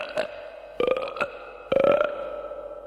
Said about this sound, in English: immediately got double indigestion with gurgles and burps